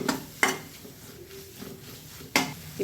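Ground masala paste for Andhra egg curry sautéed in a pan: a soft low frying hiss, broken by two sharp metallic clanks of a spoon against the pan, close and without talking.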